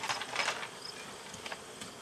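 Honey bees buzz steadily around an open backyard hive during a winter hive setup, a constant close drone with no talk over it.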